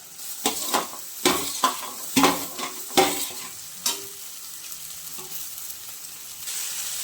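Cluster beans sautéing in a pan after onion and garlic: a quiet sizzle broken by repeated sharp scrapes and clatters of a spatula against the pan, which fade to a softer sizzle toward the end.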